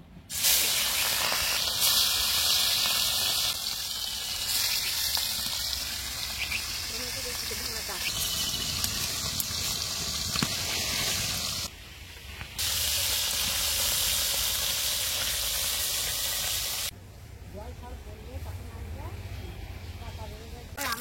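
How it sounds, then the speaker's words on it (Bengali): Khoira fish from the Ganges fry in hot white oil with a loud, continuous hissing sizzle, briefly dipping quieter at two moments as the pan is handled; a voice talks softly underneath. "তেল গরম হয়ে গেছে, মাছগুলা ভেজে নেব।"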